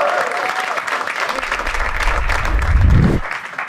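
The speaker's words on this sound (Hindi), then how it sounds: "जोरदार तालियां इनके लिए।" A studio audience at a live Hindi comedy talent-show stage claps steadily, with dense, loud applause filling the whole stretch and a low swooping effect rising underneath near the end.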